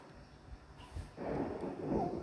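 Thunder from a lightning strike in the Roblox game Endless Door: a quiet stretch, then a sudden broad rumbling crash that holds steady for about a second at moderate loudness.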